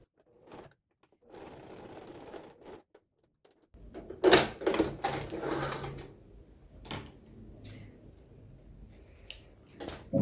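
A domestic sewing machine topstitches fabric for a men's toiletry bag in short bursts of steady whirring, pausing between runs, with faint handling clicks and shuffles around it.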